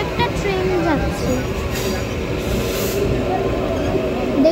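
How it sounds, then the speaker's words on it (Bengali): Another train passing by a station in a continuous loud rumble with metallic rail squeal and hiss close by; people talk throughout. "এবার দেখো আরেকটা ট্রেন যাচ্ছে"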